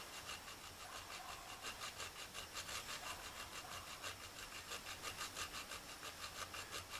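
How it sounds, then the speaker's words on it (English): A small saw cuts through a vacuum hose in quiet, steady back-and-forth strokes, each rasping pass following the last in an even rhythm, close by and with no talking. "I really hope this little saw is going to do the trick."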